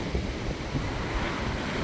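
Waves break on the seashore at Kala Patthar beach, Havelock, a loud, close, continuous surf roar mixed with wind buffeting the microphone.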